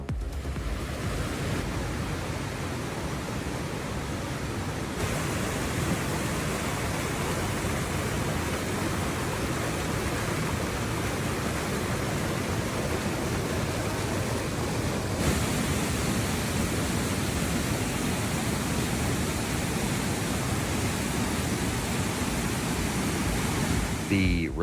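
Faucherie Falls pounding without pause, a broad, roaring rush of falling water that stays loud and even throughout, steady like white noise, with a faint voice barely present beneath it.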